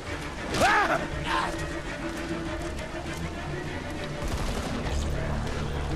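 In the zombie video game Zombi, a burst of machine gun fire rattles out briefly, mixed with clanking mechanical game sounds at moderate loudness.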